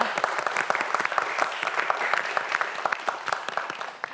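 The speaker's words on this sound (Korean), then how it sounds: "정민서 학생에게도 큰 박수 부탁드립니다" A studio audience claps for a student contestant on a televised Korean science quiz show, a bright, steady round of applause with crisp individual claps that keeps going throughout at moderate loudness.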